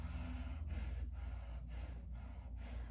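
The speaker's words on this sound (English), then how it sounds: "So I'm trying to get out of this stress pattern of breathing," Shallow, stressed breathing is demonstrated with quick, rhythmic airy breaths repeating about once a second, close and fairly quiet, with no talking.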